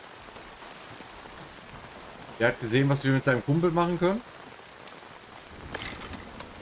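Hail pattering steadily in the survival game Nightingale, a soft continuous hiss of ice striking an umbrella and the ground, running under a man's speech in the middle and a second voice near the end.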